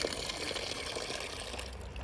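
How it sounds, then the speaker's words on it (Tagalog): An outdoor faucet runs water into a container for watering plants, a close, steady splashing stream lasting a couple of seconds without speech. "Merong ano dito, gripo. Pwede tayong mag-igib ng ano dito, yung pandilig ng mga halaman."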